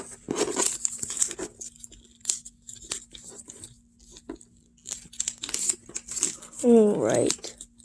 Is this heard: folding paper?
yes